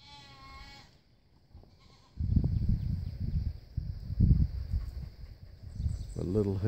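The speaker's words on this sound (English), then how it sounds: "That's a little male goat that we've weaned. A little male fainting goat." A young male fainting goat, just weaned, bleats in loud repeated cries at close range, with a person speaking before and between the calls.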